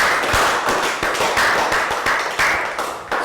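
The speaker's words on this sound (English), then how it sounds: "Round of applause for Pak Bung" A classroom round of applause during a Year 3 health education lesson, with many small hands clapping in a dense, steady patter close by for a few seconds.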